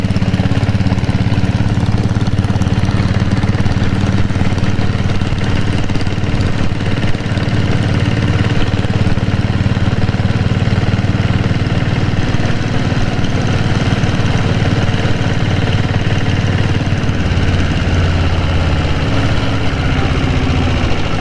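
A diesel Royal Enfield Bullet motorcycle from Kerala runs steadily, its engine throbbing in a loud, continuous low rumble close to the microphone for the whole stretch, with no talking.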